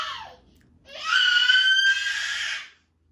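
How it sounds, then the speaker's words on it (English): A baby boy playing with toys lets out a shrill, sustained scream that lasts about two seconds, close and loud, after a brief fussy cry at the start. "sometimes he screams randomly"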